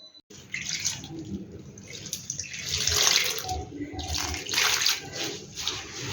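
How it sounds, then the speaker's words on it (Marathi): Moringa leaves being washed by hand in water in a kitchen vessel, a steady close splashing and swishing with surges of running, sloshing water throughout. "भाजी आता आपण स्वच्छ धुवून घेतो आहोत. 2 वेळा पाणी टाकणार आणि स्वच्छ धुवून घेणार."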